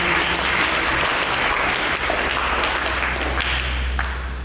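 A church congregation claps loudly and steadily, a dense wash of applause filling the space without a break.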